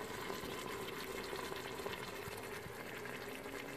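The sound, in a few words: chicken sautéing in an Instant Pot Duo Plus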